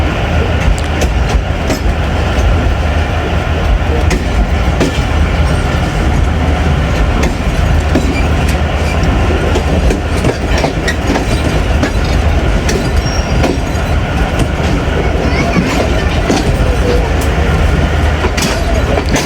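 The 13 Up Awam Express passenger train approaches a junction station in Pakistan, a loud continuous rumble of wheels on rails with rhythmic clickety-clack and occasional squeal, heard close up from on board.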